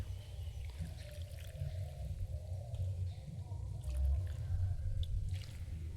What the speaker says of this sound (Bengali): দেখো কত সুন্দর করে গাছে জল দিচ্ছে